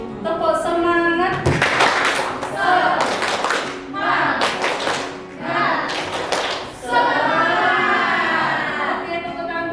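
Indonesian elementary schoolchildren in a classroom performing a rhythmic spirit clap, loud bursts of patterned group clapping alternating with children's chanted voices.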